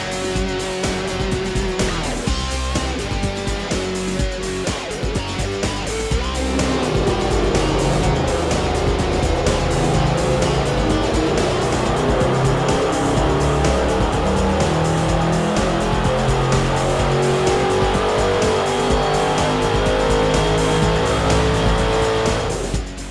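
Crate LS2 V8 engine roars on a dyno in a sustained full-throttle pull, its pitch climbing steadily as revs build, loud and close with no talking.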